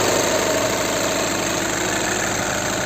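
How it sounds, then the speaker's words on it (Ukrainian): A 2012 VW Touran 2.0 TDI 140 hp diesel engine idling steadily and evenly, close and loud, with a constant low rumble and a faint high whine throughout. "Двигун працює ідеально рівно"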